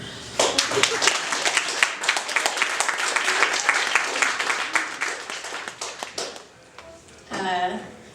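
A comedy night audience gives a burst of applause, with many hands clapping fast and loud for several seconds before thinning out. A voice speaks briefly near the end.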